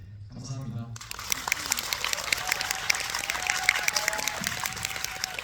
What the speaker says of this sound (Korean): 오늘 정말 즐거운 시간 만들어주신 세 분께 큰 박수 드리면서 마무리하겠습니다.